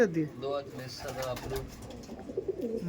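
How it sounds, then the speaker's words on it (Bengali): Kalanka Madras pigeons coo in soft, low bursts close by, mixed under ongoing human talk. "এই দেখুন পায়রা দুটো এই ছিল কালাঙ্কা পায়রা"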